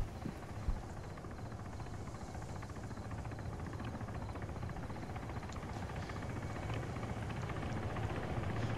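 A Puma helicopter arrives in a military video game, its steady rotor chop thumping continuously at moderate distance and growing slightly louder.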